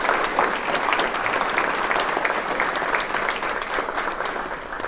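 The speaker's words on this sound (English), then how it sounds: "let's give a round of applause" Steady, enthusiastic applause from a sizable crowd at a military brigadier general promotion ceremony fills the whole stretch, even and sustained without pause.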